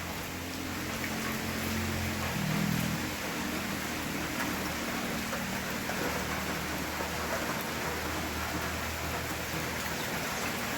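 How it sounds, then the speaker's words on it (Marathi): Heavy monsoon rain in Pune pours steadily, a dense, loud roar of water with a low rumbling swell early on, continuous for the whole stretch. "पुण्याला तर खूप पाऊस आहे बघा"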